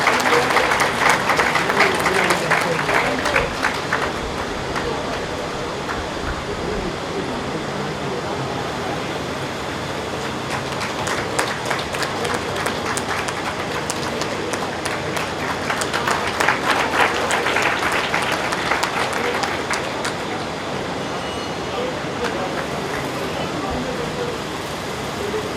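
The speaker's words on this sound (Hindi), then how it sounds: "कृपया जोरदार तालियां बजाकर इनका सम्मान करें।" Loud audience applause honouring guests at a yoga sadhana event, heaviest at the start, then a long, steady spell of clapping with bursts swelling again midway, a faint background hum underneath.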